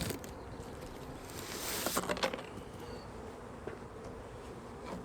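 Honey bees buzz around their beehives on a windy spring day, a continuous soft droning hum with faint, distant wind noise and no voices.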